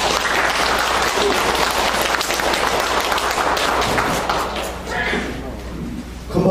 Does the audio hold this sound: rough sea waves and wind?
no